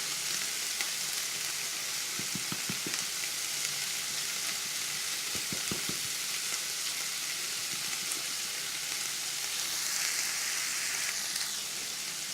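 Chorizo frying in a pan with oregano and cumin, a steady close sizzle throughout with a few short bursts of scraping and stirring as the mixture is turned.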